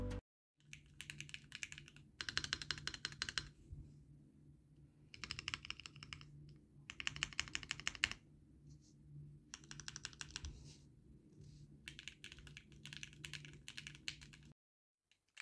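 Typing on a custom modded mechanical keyboard, close and crisp, with bursts of rapid clacky keystrokes separated by short pauses, alone without talk.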